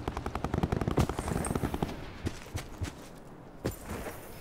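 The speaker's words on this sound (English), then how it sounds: "I hear a fight going on." Distant automatic gunfire from a firefight in Call of Duty: Black Ops 4, with rapid bursts of machine-gun shots followed by scattered single cracks fading into quieter ambience.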